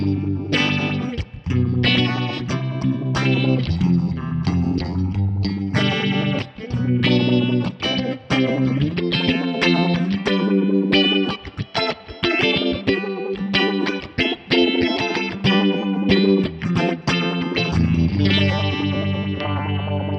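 Electric guitar played through a Keeley Oaxa dual true stereo phaser pedal, chords and notes swirling with a thick, sweeping phase effect, loud and continuous with no talking.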